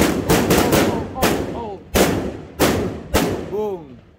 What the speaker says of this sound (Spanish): Ah, pues se explotaron todos, va.